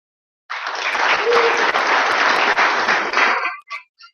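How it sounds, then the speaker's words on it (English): An audience at a mountain bike club's annual meeting breaks into applause, a sustained, loud burst of clapping lasting about three seconds before tapering off into a few scattered claps. "give yourself a round of applause"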